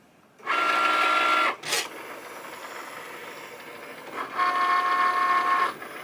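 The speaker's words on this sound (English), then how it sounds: "Just going to go over to the right hand side with the carriage, and it's just checking that it's got the right tool in there that it needs." A craft cutting machine's carriage slides across to check its loaded tool, giving two loud whirring motor runs, each roughly a second long, separated by a click and a softer steady hum, with no talk.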